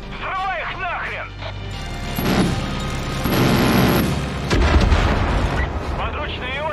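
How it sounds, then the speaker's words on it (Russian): Tanker trucks blowing up in the video game Far Cry 5, with deep rumbling booms and bursts one after another amid gunfire, and a voice talking over the opening. "Увидишь бензовозы с блажью? Взрывай их нахрен!"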